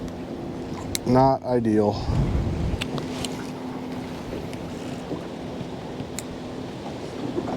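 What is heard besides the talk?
wind blowing a fishing boat around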